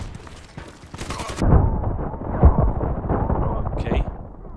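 HK G36C rifle fire in the video game Contract Wars, a burst of sharp reports followed by rumbling, booming gunfire and echoes, loud and close.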